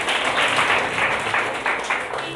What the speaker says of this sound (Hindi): एक बार उम्मीद वेलफेयर सोसाइटी के लिए ज़ोरदार तालियां बजाएं।